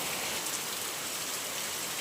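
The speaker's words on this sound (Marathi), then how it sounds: "बघ किती मस्त पाऊस आला" Heavy rain pours steadily in a dense, even hiss with no pauses.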